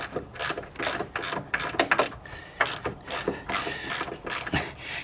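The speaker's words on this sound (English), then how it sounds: "Got the little randy dandy ratchet here." A small hand ratchet backs out a Jeep JK door bolt, giving a steady stream of close, crisp pawl clicks in uneven strokes with no voices.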